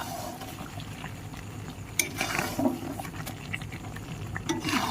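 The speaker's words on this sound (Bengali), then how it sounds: "তারপরে আমি আবারও নাড়াচাড়া করে মিশিয়ে নিচ্ছি।" Raw mango pickle being stirred with a spice mix, soft intermittent scrapes and clinks of a spoon against the container over a low background hiss, fairly quiet and close.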